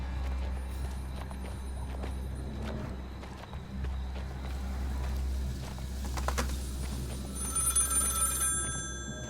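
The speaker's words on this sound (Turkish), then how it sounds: "Telefon çalıyor." Telephone ringing in the horror video game Maid of Sker, a faint, distant bell heard late among soft footsteps and low ambient hum, with no voices present.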